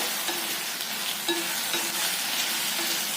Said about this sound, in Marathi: थोडा वेळ परतून घ्यायचं मसाल्यासोबत